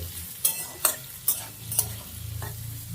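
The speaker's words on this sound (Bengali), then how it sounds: "সব কিছু দিয়ে খুব ভালো করে আবার নাড়াচাড়া করে নেবো আগে।" Chickpea bhuna with onion and green chillies stirred in a pan: four sharp, loud spoon-against-pan scrapes at an even pace over a low, continuous sizzle of frying.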